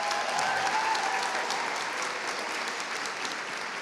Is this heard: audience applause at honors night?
yes